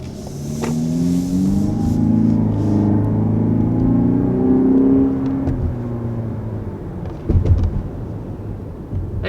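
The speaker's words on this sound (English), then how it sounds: "Comment on the engine sound with the S-Sport model there, kind of pumping in a bit of a synthetic sound" A 2021 Lexus NX 300 F-Sport's turbocharged four-cylinder engine revs with a deep, droning tone and synthetic sound pumped in. It swells and sustains loudly up close, then eases off, with a brief louder burst near the end and no talk.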